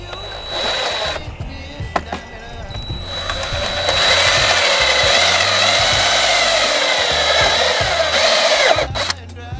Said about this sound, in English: Drill through the bottom of them.